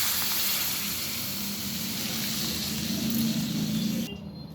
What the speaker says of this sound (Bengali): পরিমাণ মতন জল দিয়ে দিলাম।